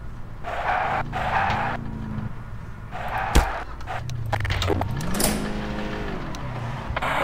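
A car drives around in the Garry's Mod video game, its engine whining and shifting pitch as it accelerates and slows, with a sharp impact partway through, tire noise and brief bursts of other game sounds.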